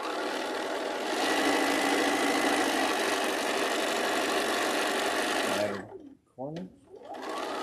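A domestic sewing machine runs steadily up close, stitching a mitered corner, its whirring motor broken near the end by short back-stitch bursts and pauses, with a brief spoken word.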